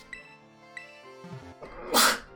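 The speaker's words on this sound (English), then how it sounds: "I thought I had a sneeze coming on" A single sharp sneeze bursts out near the end, loud and close, after a few soft background tones.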